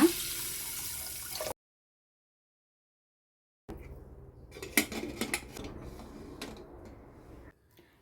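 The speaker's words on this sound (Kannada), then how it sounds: "ಒಂದು ಬಟ್ಲು ಹೆಸರುಕಾಳನ್ನ ವಾಶ್ ಮಾಡಿ ಹಾಕ್ಕೊಳ್ತಾ ಇದ್ದೀನಿ" Green gram being rinsed in a bowl of water: a brief hiss of running water, a gap of silence, then close clinks and clatters of utensils against a dish with splashing water, quiet and with no voices.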